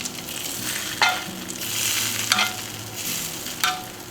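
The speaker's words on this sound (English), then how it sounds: "We're going to spoon this delicious butter on top" Butter sizzles and spits steadily in a hot pan as it is spooned over a porterhouse steak, with a few sharper bursts of crackle each time the spoon pours, no voices over it.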